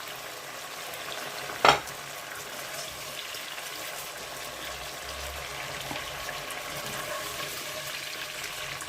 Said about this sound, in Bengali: ফার্মের মুরগি, এর জন্য এটা ভেজে নিয়েছি।